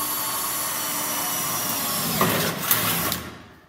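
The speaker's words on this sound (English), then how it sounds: "So now I've drilled the pilot hole here and it's ready to go." A steady high-pitched power drill whine runs continuously while drilling a pilot hole in metal, with a brief grinding bite near the end before winding down.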